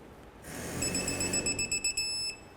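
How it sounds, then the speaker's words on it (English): A torque wrench tightening four rear wheel hub bolts to 44 foot-pounds on a 2012–2017 Toyota Camry gives a quick series of close, high electronic beeps over a low rattle, ending in one sustained tone. "I'm going to go ahead and tighten down or torque these 4 hub bolts to 44 foot-pounds"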